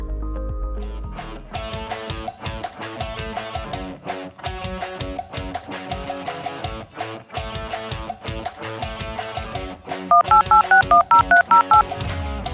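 Telephone keypad tones punch in a number over background cartoon music, a quick burst of about eight evenly spaced beeps near the end, loud and clear above the score.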